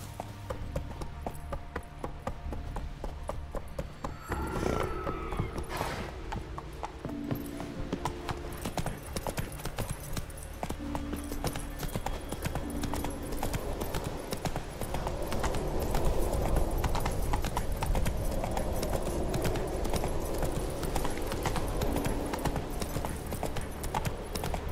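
Roach, a horse in The Witcher 3: Wild Hunt, gallops with steady rhythmic hoofbeats that run throughout, close and loud, over a continuous background of game ambience.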